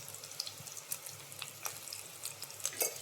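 Two spoons of coriander powder frying in a pan for a winter melon and chicken curry, a soft steady sizzle with faint scraping stir strokes, close and quiet, no talking.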